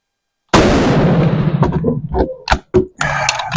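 An Enfield No5 rifle fires a single loud, close shot that booms and decays, followed by sharp metallic clicks and clacks of the bolt being worked.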